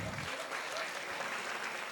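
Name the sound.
audience applause at college event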